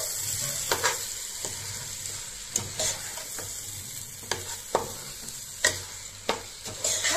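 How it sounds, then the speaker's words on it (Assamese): Rice, partly joha rice, gets stirred in hot oil in a pan for Assamese fish pulao: a steady close sizzle broken by repeated scraping and clacking strokes of the spoon, with no talking. "এতিয়া চাউলখিনি ভালকৈ মই মিহলাই লৈছো"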